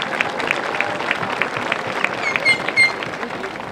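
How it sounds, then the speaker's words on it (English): Audience at a 2022 high school graduation ceremony applauds, a dense burst of many hands clapping at moderate distance, with a few cheers cutting through near the end. "Please give them a round of applause."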